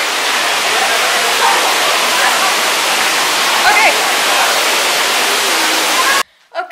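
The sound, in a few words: waterfall by a jacuzzi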